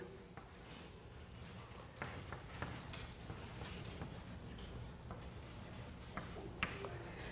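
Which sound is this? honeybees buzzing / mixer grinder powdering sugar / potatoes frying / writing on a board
writing on a board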